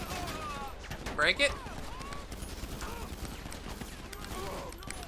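Gunfire in the video game GTA V Online, a few short shots and mechanical clatter under continuous talking, with a couple of brief louder bursts near the middle.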